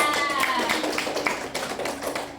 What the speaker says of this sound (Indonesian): Kasih tepuk tangan dulu Mbak Nia